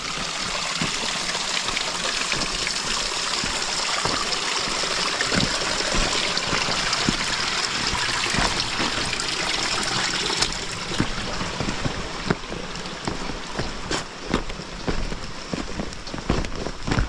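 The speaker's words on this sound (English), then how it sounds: "Got this little mini little stream," A small trail stream or mini waterfall rushes and trickles steadily during pouring rain while backpacking in the Olympic and Mount Rainier area, a constant close wash of water with scattered drip-like ticks and no talking.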